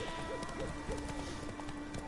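Horse hooves clip-clop in the video game Witcher 3 as the horse trots, a quiet, regular, rhythmic patter under a faint soft ambient background, with no talk.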